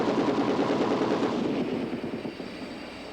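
A DIVAD anti-aircraft gun fires a rapid rattling burst at a distant ground target beyond a tank, a dense loud roar that fades over about three seconds.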